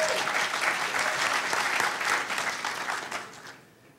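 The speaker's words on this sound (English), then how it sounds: "everybody give Vladimir a huge round of applause and let him go." Audience applause at a lightning talks session, a dense, steady burst of many hands clapping close to the listener for about three and a half seconds before quickly tapering off into near silence.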